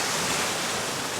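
Rushing river water pouring over a waterfall in a remote New Zealand fishing spot, a steady, dense broadband roar that stays constant and close throughout, with no voices.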